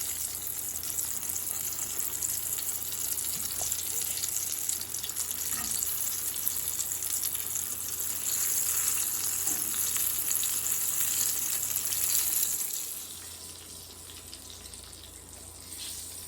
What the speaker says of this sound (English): So I'm just going to cook these guys for 2 or 3 minutes on each side and then flip